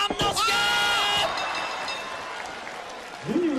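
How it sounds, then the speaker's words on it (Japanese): Crowd at a professional wrestling match in Yokohama Bunka Gymnasium, loud screams and cheers mixed with applause that swell at once, then ease into a sustained roar before an announcer's voice returns. "悲鳴とも歓声とも取れる今、複雑な空気が今横浜文化体育館を包んでいる"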